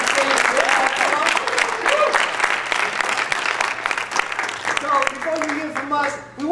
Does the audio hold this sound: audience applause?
yes